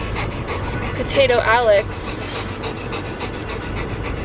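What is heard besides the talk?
dog panting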